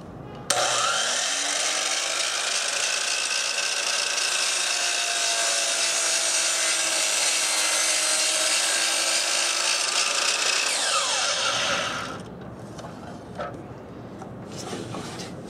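A DeWalt miter saw cuts through wood with a loud, steady high-pitched whine for about eleven seconds, then spins down and fades, with no talking.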